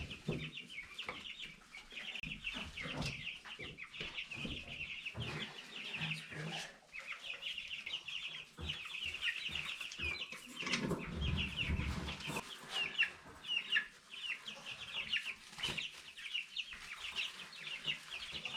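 Young Cornish Cross meat chicks in a brooder chirp and peep continuously, a dense, busy flock heard close, with occasional shuffling and bumps underneath.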